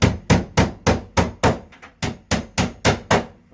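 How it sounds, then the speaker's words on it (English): A small hammer bangs a closet door hinge into place, about eleven sharp, evenly spaced strikes close by with no talking. "You may have to bang that in with a little hammer,"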